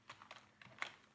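Keys clatter on a computer keyboard during a coding tutorial: a handful of quick, light clicks in an uneven rhythm, close but quiet, with one slightly sharper keystroke near the end and no talking.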